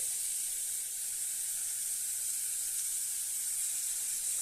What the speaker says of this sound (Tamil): நெய் சூடான பின்னாடி நம்ம இந்த துருவி வச்ச கேரட்டை இதில் சேர்த்துடலாம்.